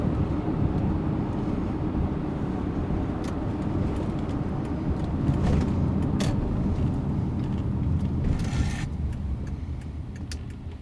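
A 2013 Toyota Highlander 3.5 V6 running on LPG through a Landi Renzo gas system: steady engine and road drone from inside the car while driving, with faint clicks and rattles over the even hum and no talk.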